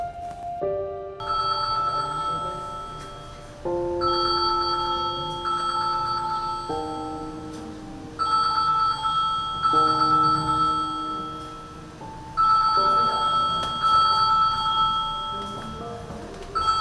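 A cellphone rings with a repeating melodic electronic ringtone, several bright tonal phrases looping steadily and fairly loud, with no talking over it.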